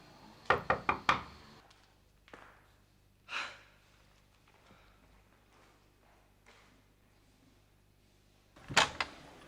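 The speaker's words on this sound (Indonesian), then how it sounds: "Tante ketok aja." Knuckles rap on a house door: a quick cluster of several sharp knocks, a couple of softer isolated taps, then another brisk burst of knocking after a quiet pause.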